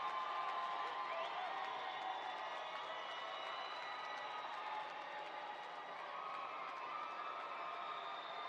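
Graduates at a university commencement ceremony applaud their families and friends, a broad, steady wash of crowd clapping and cheering that fills the hall at even loudness throughout.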